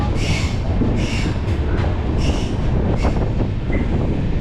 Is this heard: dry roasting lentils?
no